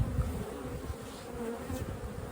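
Honey bees buzz steadily in hive frames, a dense continuous drone close by with no voices over it.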